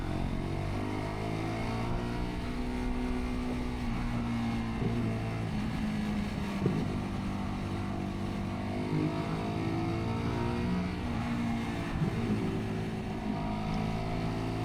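A Lexmoto 125cc motorcycle engine with an aftermarket exhaust runs steadily, a droning, buzzy hum with small rises in revs over about fifteen seconds and no talking.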